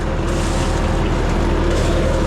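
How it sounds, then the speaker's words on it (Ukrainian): A John Deere 1032 combine's straw chopper runs while threshing soybeans in a field, giving a loud, steady mechanical drone with a low engine hum throughout. "Січкарня теж працює класно."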